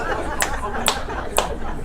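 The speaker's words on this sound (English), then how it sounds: "One person is applauding." A lone person claps slowly and deliberately in a law school lecture hall, four sharp, evenly spaced claps over a steady room hum with no other applause joining in.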